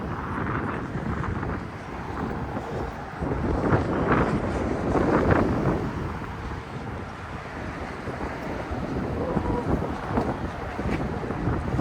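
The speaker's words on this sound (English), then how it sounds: "It's so windy." Strong wind in downtown Grande Prairie, Alberta buffets the microphone in loud, rumbling gusts that swell and ease continuously, with no voices.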